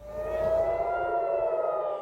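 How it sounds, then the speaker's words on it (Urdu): Air raid sirens wail across Israel in a steady, sustained tone with sliding harmonics, loud and continuous with no talking over them. "اسرائیل میں بھی آج صبح سائرن گونج رہے تھے۔"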